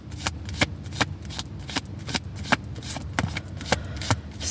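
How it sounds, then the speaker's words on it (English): A deck of tarot cards being shuffled by hand, a rapid series of crisp riffling flutters and soft slaps repeating at an uneven rhythm, close and fairly quiet with no talking. "let's get a few tarot cards and we'll wrap this up"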